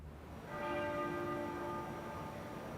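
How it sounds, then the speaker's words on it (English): The muffled tenor bell of Westminster Abbey tolls once, a soft, damped strike with a long ringing hum that slowly fades, heard alone against a quiet outdoor hush. "The sound of the Abbey's muffled bell."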